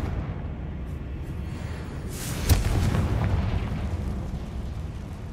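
Spell explosions from Confringo and Bombarda in the video game Hogwarts Legacy: a continuous booming rumble with one sharp burst near the middle, loud and steady throughout.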